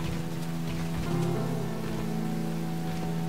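Steady rain falls in the video game Rain, a dense, even patter over a low, sustained musical drone with no voices.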